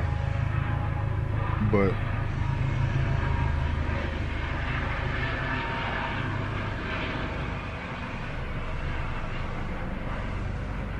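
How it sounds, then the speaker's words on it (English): A plane passes overhead as a broad, steady roar that fills the background for the whole stretch, loud and constant, with a single spoken word over it. "it's a plane going by"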